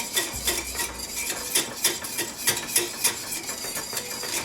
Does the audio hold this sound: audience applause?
no